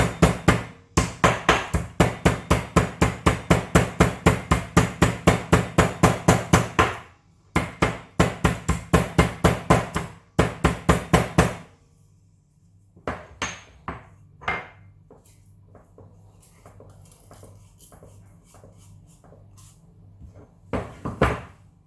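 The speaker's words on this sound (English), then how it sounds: "First, let me start with powdering my cardamoms." Cardamom pods are pounded into powder with rapid, sharp, regular pestle strikes in bursts, close and loud, then slower scattered taps as the pounding eases off.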